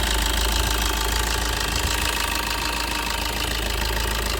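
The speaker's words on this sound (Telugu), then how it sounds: "ఇంజన్ సౌండ్ చూసుకుంటే మాత్రం ఇట్లా ఉంది" Idling diesel engine of a 2019 Maruti Suzuki Ertiga VDI 1.3, a steady close-up rumble with a faint knocking clatter, holding an even level throughout with no talk.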